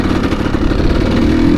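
Kawasaki KX dirt bike engine revving on a mountain single-track trail, a loud, close, continuous buzzing roar with slight rises in pitch, no talk.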